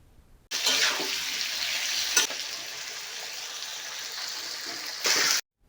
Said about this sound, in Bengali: লবণ দিয়ে আলুগুলোকে ভালো করে ভাজতে হবে